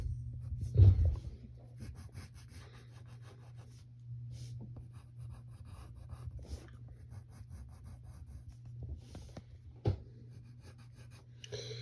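Pencil scratching across paper in steady strokes while sketching a cartoon brain character's face, close and quiet, with a low hum underneath and one louder scrape near the end.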